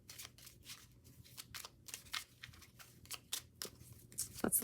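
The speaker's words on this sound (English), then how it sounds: "I'm going to give this a quick shuffle" Oracle cards being shuffled quickly by hand, a run of soft, rapid papery riffles and flicks at close range, with no talking.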